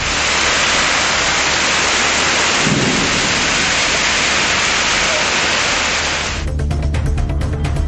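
Heavy monsoon rain pours down steadily in Pudukkottai district, Tamil Nadu, a loud unbroken hiss with a low thunder rumble partway through, then the downpour shifts to a nearer, patterned drumming on a surface.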